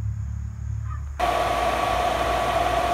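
A Vevor 2hp electric motor powering an air compressor kicks on abruptly after a low hum, settling into a steady, loud, even whir close by.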